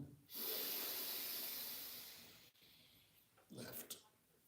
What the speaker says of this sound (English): Let's do the breathing one more time.